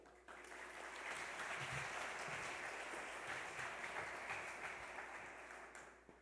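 Graduation convocation audience at Gwynedd Mercy University applauding to welcome the university president, steady sustained clapping of a large crowd heard from a distance, fading at the end.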